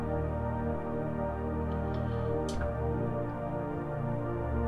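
A soft worship synth pad from a MainStage keys patch with chorus and light shimmer, holding a quiet, steady chord with gentle swirling movement and a few faint high glints.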